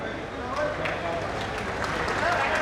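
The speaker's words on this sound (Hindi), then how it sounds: "तालियां बजती रहनी चाहिए" A large crowd claps steadily at a public project inauguration event in Sambhal, a dense, continuous wash of applause with a voice speaking over it.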